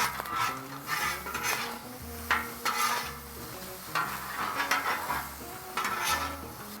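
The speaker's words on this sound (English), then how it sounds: "we're gonna mix all this together, y'all" Seasoned ground beef and onions stirred in a pan with garlic powder for Cajun sloppy joes, a spoon scraping and clacking against the pan in repeated strokes over a low sizzle, close and steady, with music playing underneath.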